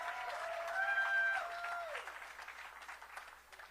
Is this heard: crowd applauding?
yes